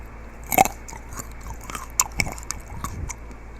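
Close-up bites and chewing of chunky chocolate-coated grapes, the coating mixed from melted, burnt and raw chocolate; a few sharp crunchy bites followed by moist, irregular chewing, alone with no talk.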